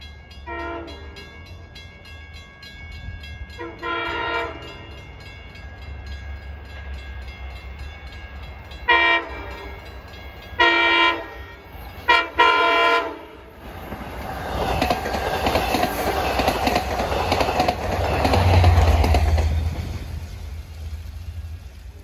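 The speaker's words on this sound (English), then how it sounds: "Well, approaching McConnell Avenue at 4:53 is train 78 from Babylon to Patchogue." A Long Island Rail Road train from Babylon to Patchogue approaches the McConnell Avenue grade crossing in Bayport. Several long horn blasts sound at intervals, then a loud rushing roll with clickety-clack builds as the train passes close by.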